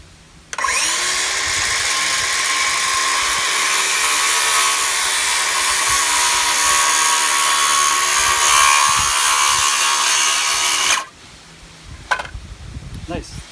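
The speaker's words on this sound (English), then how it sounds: "Normally I do this cut with a miter saw, but I wanted to give the circular saw a try." A DeWalt 20V cordless circular saw fitted with a 24-tooth Diablo blade spins up and cuts through a 1x6 board in one continuous loud whining pass of about ten seconds, then winds down, followed by a brief clatter.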